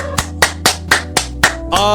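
Seven sharp claps land at a steady, even pace, loud and close, over a low constant hum.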